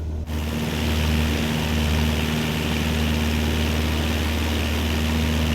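A propeller airplane engine drones steadily at cruise, 6,000 feet in Microsoft Flight Simulator 2024, a loud unbroken hum with strong low tones and a broad airy roar, with no talk over it.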